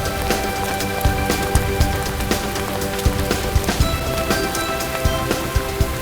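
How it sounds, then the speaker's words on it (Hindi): Steady rain patters on a hard surface, with scattered louder drips tapping at irregular moments. "बारिश कहाँ से आ गई चलो यार?"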